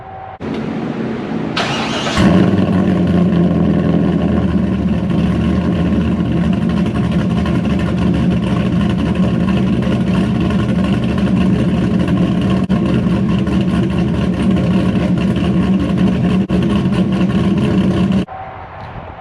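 A cammed C5 Corvette Z06 engine cranks and fires in a cold start, jumping to a loud, steady, lumpy idle that rumbles on for about fifteen seconds before cutting off abruptly.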